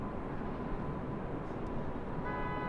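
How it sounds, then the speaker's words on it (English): A car horn honks amid steady, loud urban and airport background noise near Los Angeles International Airport, with a faint tonal horn line sitting under the constant rumble and no clear talking. "I'm hearing the honking"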